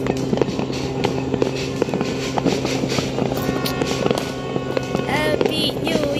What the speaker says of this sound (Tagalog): So let's enjoy the sounds of the fireworks guys.